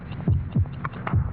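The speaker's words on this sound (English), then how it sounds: "72 heartbeats." A heartbeat sound effect in a Bufferin headache commercial throbs in low, dull thumps, steady and close, with a faint hum underneath and no talk.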